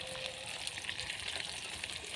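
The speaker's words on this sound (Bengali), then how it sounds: "উল্টে পাল্টে মাছগুলোকে ভেজে নেব।" Pangas fish frying in oil in a pan over low heat gives a steady, soft hiss and crackle, continuous and fairly faint, with no talking.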